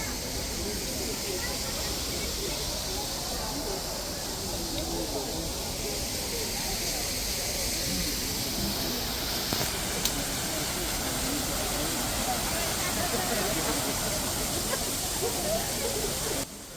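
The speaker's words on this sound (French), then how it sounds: "Il y a même une fontaine cascade de 8 mètres d'hauteur, où tout le monde prend les photos devant." An 8-metre cascade fountain on Manege Square in Moscow, a steady, dense rush of falling water that holds evenly throughout, with faint voices in the background.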